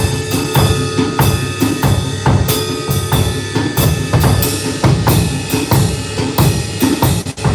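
A drum kit plays a swung groove with constant cymbal wash over kick and snare hits in a loping rhythm. It is loud, close and solo.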